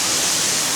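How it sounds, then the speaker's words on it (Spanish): Water pouring down from a ceiling in an indoor mini waterfall, a loud, dense, continuous splashing rush with no voices, heard for under a second. "Aquí hay una mini cascada interior."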